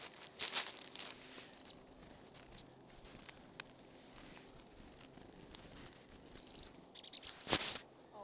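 Small birds at a feeder give quick runs of high, thin chirps in short bursts, close and fairly clear against a quiet background.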